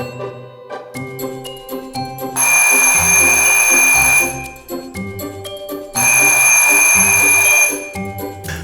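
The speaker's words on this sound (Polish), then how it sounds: "Muszą być aż trzy dzwonki." Theatre bell calling the audience to its seats, two long loud bright rings, each lasting about two seconds, set against a patterned musical background.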